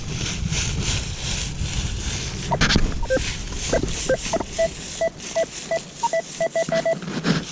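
Metal detector sweeping a field dig site, giving a string of short electronic beeps in an uneven rhythm, repeated tones against steady wind and outdoor background, no talking.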